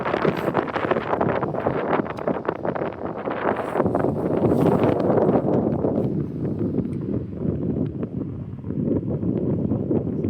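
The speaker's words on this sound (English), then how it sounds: "It's very heavy wind." Heavy wind buffets the microphone in loud, continuous gusts while a baitcaster is cast for fishing, with rustling roar dominating throughout.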